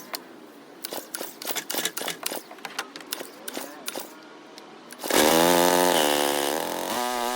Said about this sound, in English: pull on the drawstring a few times, and just like that, it should start up